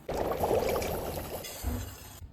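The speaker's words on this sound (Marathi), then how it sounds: "आता उकळी आलेल्या पाण्यामध्ये हा कट घालूया" Spiced kat liquid is poured into boiling water for a katachi amti, giving a steady, close splashing rush for about a second and a half that then settles into a quieter bubbling simmer.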